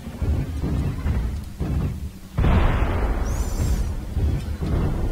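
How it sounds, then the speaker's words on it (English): A missile explosion in the mech combat game MechWarrior Online: a sudden loud burst with a rumbling, thunder-like tail after quieter battle sounds. "Incoming missile."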